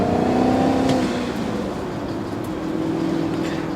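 A V8 car's exhaust note with a holed exhaust growls loudly as the engine revs and then eases off, a steady raspy rumble heard from inside the car with the windows down.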